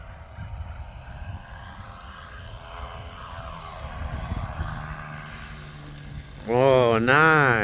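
A glow engine on a balsa Train Air .40 RC trainer plane outdoors: faint engine hum under talk, then a loud, close, buzzing whine that rises and falls in pitch near the end.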